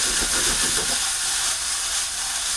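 Steady broadband sizzling hiss, loud and continuous, with a brief low rumble of activity at the start.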